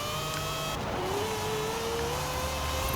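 A 1973 Mazda RX-3 rear-wheel-drive drift car in Forza Horizon 4 holds a steady engine drone that rises gradually as it accelerates, loud and continuous with no talking.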